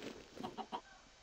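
A Minecraft chicken gives three quick, soft clucks in a row, faint and close together over a quiet game background.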